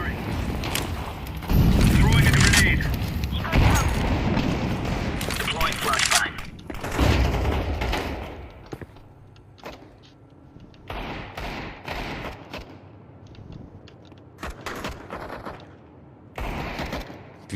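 Desert Eagle pistol shots in Counter-Strike 2 crack out as sharp bursts over loud, breathy game noise, with further scattered gunfire continuing more faintly afterward.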